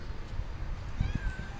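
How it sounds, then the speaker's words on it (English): A stray tortoiseshell cat gives a short, fairly close meow near the end over low background noise. "You gonna meow for me?"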